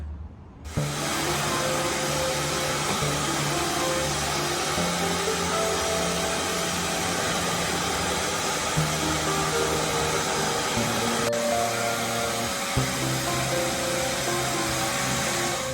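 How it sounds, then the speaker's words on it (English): A vacuum cleaner runs continuously over a narrowboat roof with a steady motor drone and whine, close by, shifting slightly in pitch as it moves. "I'm going to vacuum the roof just to get any residual dust off it"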